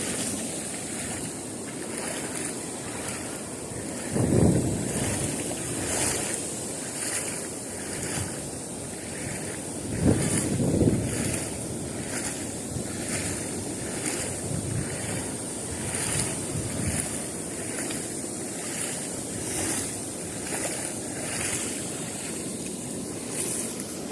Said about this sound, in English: And that wind really sucks.